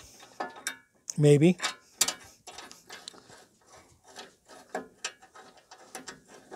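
A screw being driven back in during installation of a third-function valve kit on a Kioti CK261 tractor, with a short burst of ratcheting clicks followed by scattered light mechanical ticks and handling noises, a brief spoken word.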